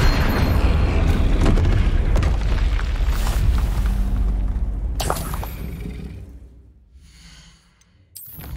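A Flipendo spell cast in Hogwarts Legacy, a heavy booming blast that rumbles and then fades away, followed by a sharp burst at the very end.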